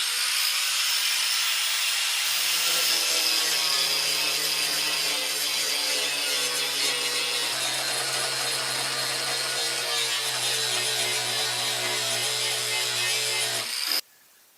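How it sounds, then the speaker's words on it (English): A flap disc grinds down leftover spot welds on an OEM seat bracket, a loud continuous hissing, rasping whine that holds steady for about fourteen seconds before cutting off suddenly, with no voices. "we're basically just going to use the flapper disc to basically cut down the spot welds"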